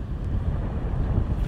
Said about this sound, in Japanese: 今日はもうものすごい風強いです。